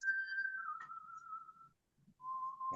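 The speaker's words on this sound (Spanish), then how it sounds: "Está silbando, bueno, parece un pájaro." A person whistles a tune in long, steady held notes that glide slightly, with a short pause before a final note, moderately close in a quiet room with no talking.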